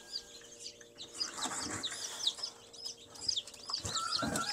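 Newly hatched Giant Rhode Island Red chicks with chickens nearby, a dense chorus of high peeping and chirping close by, punctuated by occasional clucks and wing flutters.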